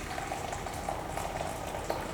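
Boiling water poured into a jug for bread dough, a steady close hiss and gurgle of liquid running without a break.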